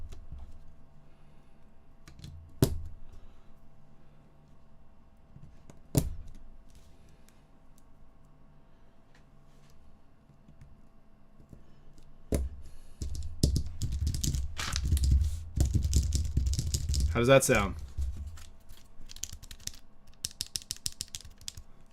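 A custom 65% mechanical keyboard being tested: a few isolated sharp clicks, then a dense run of close, clacky keystrokes in the second half, with brief speech during the typing.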